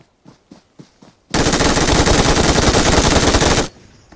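Automatic gunfire in the BGMI mobile battle royale game, a few single shots followed by a long, loud, unbroken burst that cuts off abruptly.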